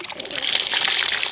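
Water let out during a Diwali puja in a village home, a brief, close gush and splash with a bright, hissing rush lasting about a second.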